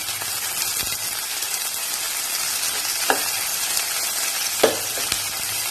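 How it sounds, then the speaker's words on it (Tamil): Onions sauté in a pan for a capsicum chickpea curry, giving a constant close hiss and crackle of hot oil, broken by two brief spatula knocks. "இந்த வெங்காயம் நல்லா வதங்கி வரக்காக தான்"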